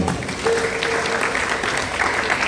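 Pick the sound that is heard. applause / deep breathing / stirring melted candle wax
applause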